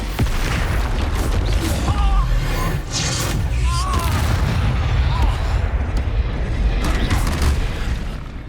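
Expulso explosion spell blasting in Hogwarts Legacy, booming bursts repeating across the scene with a loud, dense rumble and several sharp impacts, mixed with game action and a voice casting spells.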